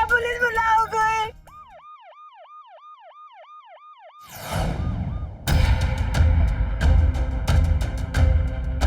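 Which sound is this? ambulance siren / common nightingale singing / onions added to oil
ambulance siren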